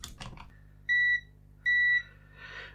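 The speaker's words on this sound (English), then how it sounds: "Let's put our multimeter in continuity." Multimeter set to continuity gives two steady electronic beeps, each about a third of a second, clear and close, with faint handling clicks and rustle between them during repair of a faulty Simpsons Bartman game.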